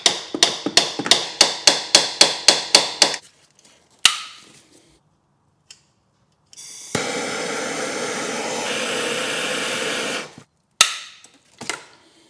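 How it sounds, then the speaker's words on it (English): A rapid series of about a dozen loud metallic hammer blows in steady rhythm on a Subaru engine PCV fitting, then a few isolated strikes, a long hissing air-tool burst, and more clanks. "I'm going to start off with the hammer, see if it loosens it up"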